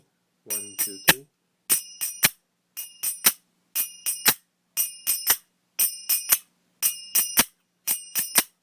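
Bright metallic clinks of majeera hand cymbals ring in a repeating pattern of three strikes per group, sharp and close, each with a short shimmering decay.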